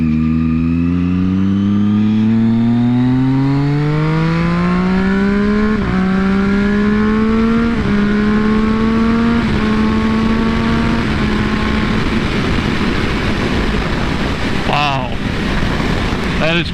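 A Triumph Daytona 675R sport motorcycle of about 126 horsepower accelerates hard, its engine note climbing through several rapid quick-shifter upshifts, loud and close, with heavy wind rush building toward the end.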